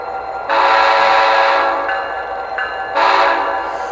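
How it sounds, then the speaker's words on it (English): A newly selected air horn on a model diesel locomotive with a Tsunami2 sound decoder blows two long blasts and one shorter one, loud and close over a low running engine rumble. "you can select the air horn in CV120"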